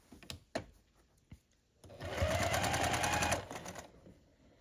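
Sewing machine stitching quilt block columns together for a scrappy sampler quilt, a steady rapid whir of about one and a half seconds after a few sharp knocks and clicks, close and fairly loud.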